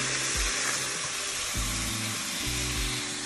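Rice tipped into a hot pan with browned fennel seeds for jaggery sweet rice, giving a steady broadband sizzle with low thumps and scraping as grains hit and settle, close and fairly loud with no talk.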